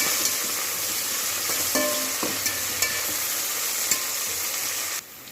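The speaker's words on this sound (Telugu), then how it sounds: "ఉల్లిపాయ ఎగుతుంది." Onions sizzle steadily in a hot pan for egg biryani, giving a close, continuous crackling hiss, with a few sharp clinks of a spoon stirring and scraping near the end.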